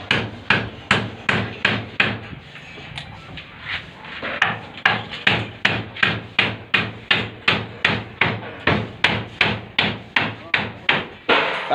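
A hammer drives a concrete nail into a stone wall, with about two dozen sharp, ringing strikes at a steady, brisk rhythm, close and loud, after a brief pause early on.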